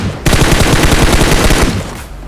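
Rapid burst of gunfire in PUBG, an AWM sniper rifle landing a body shot on an enemy, loud and close, a dense volley lasting over a second before cutting off.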